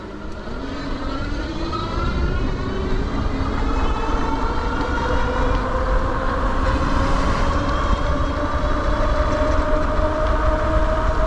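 E-bike speeding downhill at around 32 miles an hour, a loud continuous roar of wind and rushing road noise with rising whine-like tones throughout, and no talking.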